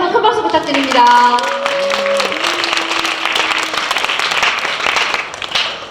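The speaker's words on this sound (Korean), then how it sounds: "큰 박수 부탁드립니다" Loud audience applause at a student project presentation contest, with dense clapping throughout and voices and a brief tonal sound heard over the start.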